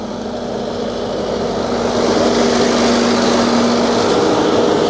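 A mountain tractor on a Swiss farm drives past with a steady droning engine that swells in loudness midway and holds strong to the end, no voices over it.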